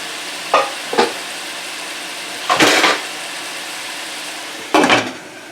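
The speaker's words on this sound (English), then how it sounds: "And I'm going to put the lid on the pot so that it can cook more efficiently." A lid set onto a cooking pot during preparation of Tuscan chicken, giving several short, sharp clinks and clatters spaced a second or two apart over a steady low background hiss of cooking.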